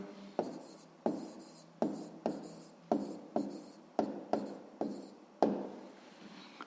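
Someone writes down an answer for a sixth-grade maths exercise, with about ten crisp, evenly spaced strokes scratching on paper up close and no talk.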